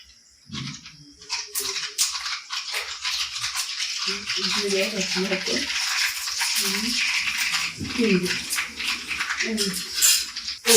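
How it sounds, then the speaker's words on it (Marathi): Tempering spices crackle and sizzle in hot oil for Karnataka-style poha, a bright continuous spatter close by, while someone talks over it. "तेल तापलं आपलं मग मी फोडणी करायची"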